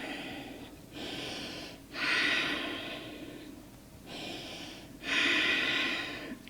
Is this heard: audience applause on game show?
no